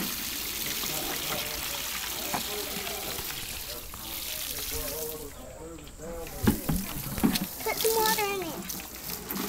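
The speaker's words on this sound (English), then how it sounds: "This has water in it. And it's dirty. I'm going to have to pour it out." Dirty water is poured out of a container, giving a faint splashing trickle that sits under close voices talking throughout.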